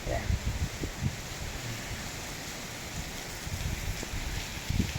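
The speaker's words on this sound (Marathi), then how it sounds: "पाईपमधून पडणारी पावसाची धार धार" Steady heavy rain pours with a continuous hiss, water streaming from a pipe and splashing nearby, with occasional low thumps of drops hitting a surface.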